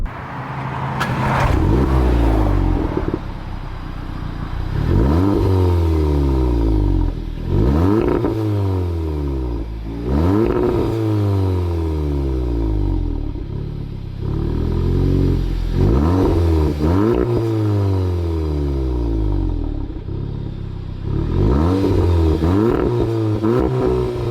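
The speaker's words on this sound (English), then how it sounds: "a lot of people are quite interested in a middle resonator on a Cupra 280" A Cupra 280 engine revving repeatedly through an exhaust fitted with a middle resonator, deep booming pulls rising in pitch then dropping, loud and close with no talk.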